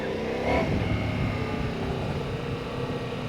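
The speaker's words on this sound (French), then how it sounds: "nous voilà au guidon de la Multistrada V4S" A Ducati Multistrada V4S motorcycle ridden along a winding mountain road on Réunion island, its engine a steady loud hum with a brief rise near the start and wind rush throughout.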